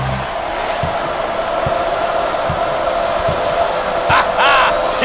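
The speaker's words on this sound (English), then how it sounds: "This crowd is fired up" Crowd noise fills an arena during a college basketball video game between the Dayton Flyers and Wisconsin Badgers, a steady roar with rhythmic stomps and a short swell of whoops near the end, while commentators talk over it.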